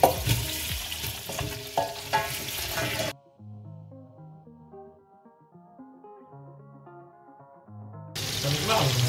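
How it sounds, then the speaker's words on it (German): Cabbage braising in a pot for an old-fashioned home-cooked dish sizzles and hisses loudly up close with stirring clatter, broken by a stretch of soft background music before the frying noise returns. "in den hinteren Topf kommt jetzt"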